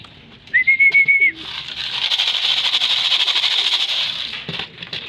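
Pigeons in a loft give soft cooing calls with a brief whistle-like note early on, followed by a sustained fluttering, rustling wash of sound, all close and without talk.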